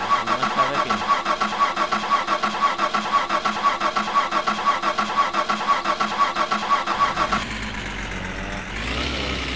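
An engine in the video game My Summer Car is cranked with the ignition, turning over in a long, even, rhythmic chug for several seconds before it catches and settles into a rough, louder idle.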